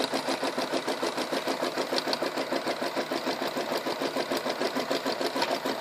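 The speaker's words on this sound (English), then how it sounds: "Right now I'm embroidering a toy soldier on towel fabric" A Janome Memory Craft 9000 embroidery machine stitches a toy soldier design into towel fabric, giving a rapid, steady, rhythmic needle clatter that runs close and continuous throughout with no talking.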